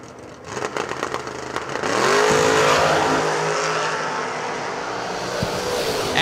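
A Chevrolet Camaro and an S10 launch at a drag race, their engines erupting into a loud, sustained roar after a few seconds of idle burble and crackling revs, then holding a strong, slightly wavering drone.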